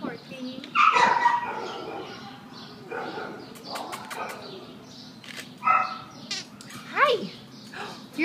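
Shelter dog whimpering and making short vocal yelps and whines at close range, scattered between stretches of a person talking softly to it.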